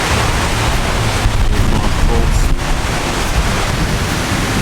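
Fast outboard boats with roughly 150–200 horsepower engines pass near Cagayan, heard as a steady broadband roar of rushing water and wind noise that swells slightly midway, continuous and loud with no talk.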